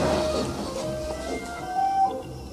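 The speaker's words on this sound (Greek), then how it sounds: "τέτοια ώρα αρχίζουν τα πουλιάκι και λαϊδές, γαρδέλια" Small birds, goldfinches among them, sing by a river on a farm: faint chirps and short tonal calls float over a steady outdoor hiss, with a soft cooing note mixed in.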